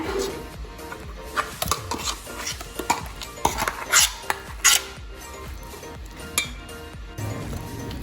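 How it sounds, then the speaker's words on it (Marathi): Metal spoon scraping and clinking against a bowl as ground coconut chutney paste is scooped out, a series of irregular knocks and scrapes, close and fairly quiet with no talking. "हे खोबऱ्याचं वाटण जे बनवून घेतलेलं आहे ते एका भांड्यामध्ये काढून घेऊया"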